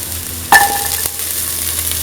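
Lentils and winter melon sautéing in a pan, a sharp clink of a utensil against the pan followed by a steady soft sizzle, close, no voices.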